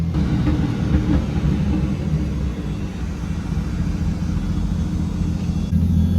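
A loud tuned car engine running a Link G4 ECU drones through its exhaust while driving, a constant deep rumble that holds steady throughout with no talking.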